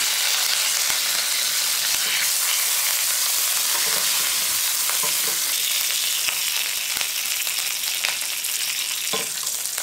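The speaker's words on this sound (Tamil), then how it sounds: "கடுகு நல்லா வெடிச்சோன்னே உளுத்தம்பருப்பு சேர்த்துக்கிறேன்." Mustard seeds, urad dal and curry leaves frying in hot oil, a loud, steady crackling sizzle with scattered pops throughout, close and continuous.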